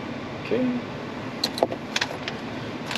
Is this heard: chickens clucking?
no